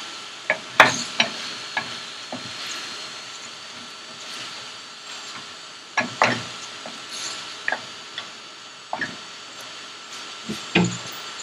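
A drumstick and potato curry gets mixed in a pan. The spoon clacks and scrapes in irregular bursts over a soft, low sizzle, close up and with no talking.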